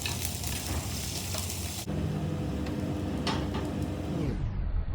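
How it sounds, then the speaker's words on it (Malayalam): Ginger, garlic and dried chillies sizzle steadily in hot oil for a Kerala village-style tomato yogurt curry, a continuous close frying hiss with faint stirring scrapes, easing off toward the end. "ഈ ഇഞ്ചിയും വെളുത്തുള്ളിയും ഉണക്കമുളകും കൂടി ഇട്ട് ഒന്ന് ചെറുതായിട്ട് ഫ്രൈ ചെയ്യാം"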